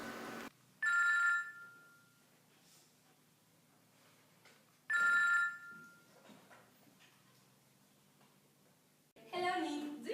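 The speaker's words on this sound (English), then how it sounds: "One evening the phone rang." An old-style telephone rings in two long bursts several seconds apart, with a third starting at the end, clear and moderately loud in a quiet room, and faint speech between the rings.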